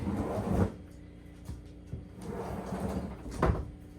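Shelves are worked into a DC off-grid refrigerator with its doors fully open, giving a series of close, hollow knocks, thumps and scrapes that come in irregular bursts and catch on the unit.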